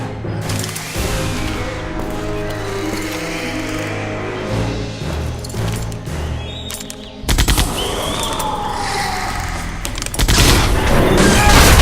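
Rapid gunfire bursts and booms from the video game Jurassic Park: The Game, continuous and loud over a dense musical score, with heavier volleys near the end.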